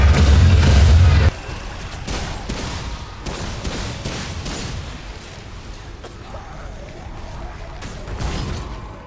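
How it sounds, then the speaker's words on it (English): Explosions and gunfire in the video game Remnant 2, a heavy boom at the start followed by a sustained stretch of crackling blasts and impacts at steady loudness, mixed with game effects. "Got some explosions."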